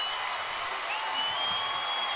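A college basketball crowd at a DePaul at Villanova men's game in Philadelphia cheers a made three-pointer with a steady, even roar of voices and scattered clapping throughout.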